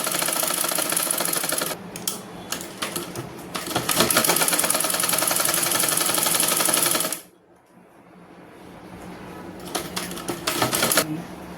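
A sewing machine stitches a blouse in loud, rapid rattling runs with brief gaps, stops for about two seconds, then resumes in shorter bursts.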